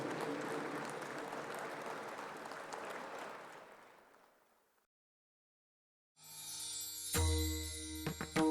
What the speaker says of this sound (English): I would like to request everyone to please rise in your seats once again and give a huge round of applause to Honorable Dr. G. Satheesh Reddy ji.